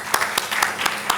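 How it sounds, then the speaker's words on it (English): A conference audience claps to welcome a panelist and moderator, a few distinct sharp claps in sparse rhythm rather than a full ovation, fairly close and moderately loud. "Please welcome our panelist and moderator with a huge round of applause."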